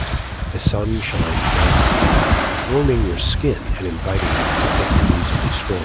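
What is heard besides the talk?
ocean waves lapping on beach shore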